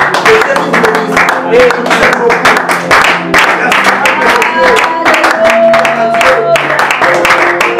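Congregation at a church service in Lemba clapping in praise, loud rhythmic hand claps in a steady beat, with voices singing over the clapping throughout.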